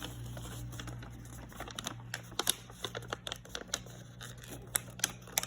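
Paper being folded and pinched by hand while crafting a butterfly, a close series of soft crinkles and sharp little creases and taps, with no talking.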